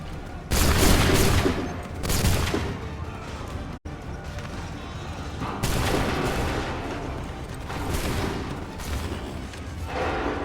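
Repeated musket volleys crash out in Assassin's Creed III, heavy overlapping bursts of black-powder gunfire in loud waves with a brief break, while voices shout orders over the battle.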